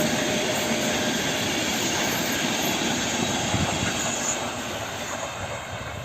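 An EU160 Griffin electric locomotive and train roars past at speed near Warsaw West station, a dense broadband rush of wheels and rails that holds steady and then fades slightly toward the end.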